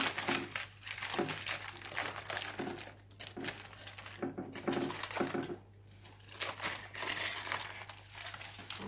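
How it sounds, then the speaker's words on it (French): Baking paper crinkles and tears as it is peeled off a freshly baked, still-hot chocolate moelleux cake turned out onto a serving plate, a close, continuous papery rustle in several bursts with short pauses. "Enlever le papier."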